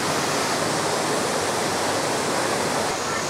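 A waterfall at Furong town, a old riverside town perched above the falls, roars as a steady, dense broadband rush of falling water, continuous and loud with no break.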